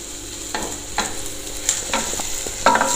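Spices like coriander and red chilli powder roasting in hot oil for mustard greens saag, a close crackling sizzle broken by several sharp spoon scrapes and stirs against the pan.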